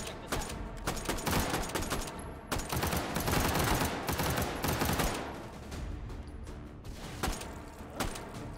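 Rapid bursts of pistol fire in a WWII-themed VR shooter, sharp cracks in uneven clusters with a dense flurry in the middle and scattered single shots near the end, loud and close with other gunfire around.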